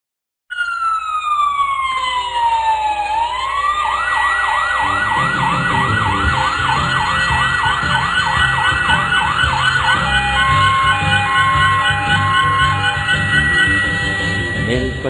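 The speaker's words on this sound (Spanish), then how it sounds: "De bomberos la sirena ha sonado" A fire truck siren wails loud and close, rising then cycling in rapid up-and-down sweeps alongside a steady tone, with a rumbling engine beneath.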